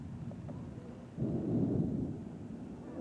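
A low thunder rumble swells up after a lightning strike during an August storm, rolling heavily for about two seconds before easing back into a dull background hiss.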